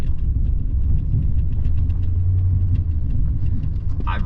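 Truck with an 8.1-liter gas engine towing a trailer on a drive toward a northern Minnesota jobsite, giving a steady low road rumble and engine drone that holds throughout.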